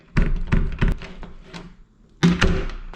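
A door with a newly moved strike plate swings shut, giving a few quick thunks and clicks as the latch catches, then a pause before a louder closing knock.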